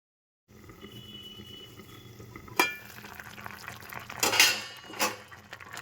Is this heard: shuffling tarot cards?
no